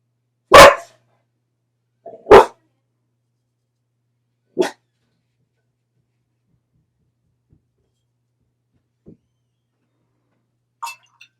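A pet dog gives a few sharp, isolated barks in a quiet room, two close together at the start and then fainter, sparse yips spread out over several seconds of silence.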